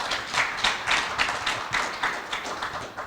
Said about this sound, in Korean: 영상이지만 큰 박수 부탁드립니다.